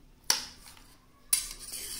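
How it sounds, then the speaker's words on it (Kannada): A knife cuts homemade agar agar jelly, giving two sharp, close clinks against a plate about a second apart, each fading quickly into quiet. "ಈಗ ಜಲ್ಲಿನ ಕಟ್ ಮಾಡಿ ತೋರಿಸ್ತೀನಿ"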